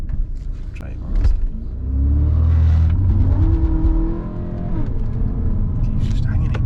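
A tuned VW Passat 2.0 BiTDI diesel accelerates with a deep rising engine drone and gear changes from inside the cabin, while people talk over it.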